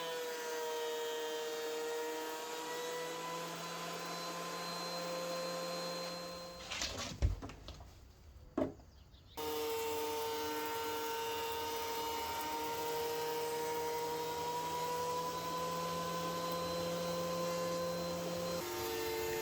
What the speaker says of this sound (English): Now here's my planer without dust collection.